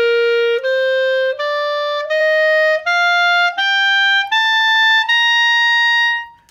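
Wind instrument, apparently a clarinet using the thumb and register key, playing a steady ascending scale up to high C, nine clear sustained notes stepping upward one after another, loud and close, with the last note held longest.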